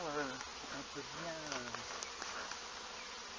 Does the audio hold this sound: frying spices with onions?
no